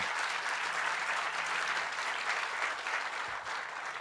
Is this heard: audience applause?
yes